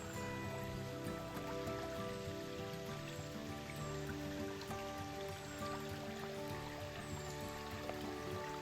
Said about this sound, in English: there's a waterfall back there.